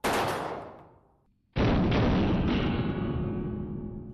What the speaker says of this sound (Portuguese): a Kalashnikov pode disparar um único tiro ou entrar em modo metralhadora